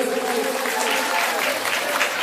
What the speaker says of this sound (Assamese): এটা জোৰদাৰ হাত চাপৰি লাগে।